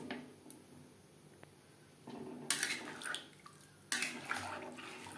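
Water poured into a pot of simmering fish curry gravy in two bursts of splashing and gurgling, close and fairly quiet, after a stretch of soft kitchen background.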